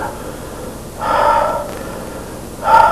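Deep, audible breaths during Hindu push-ups, two strong exhalations separated by a quiet pause, close and alone without talk.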